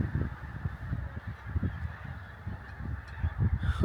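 A large flock of geese honks over the marshes, a steady clamour of many overlapping calls carrying from a short distance with no speech.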